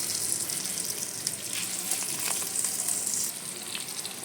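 Eggplant slices fry in hot oil with black cumin, giving a steady, close hiss and crackle of sizzling that continues evenly throughout without any talking.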